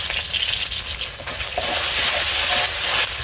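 Ginger and green chili paste sizzles in hot oil in a wok, a steady close frying hiss that swells slightly louder toward the end, with no talking.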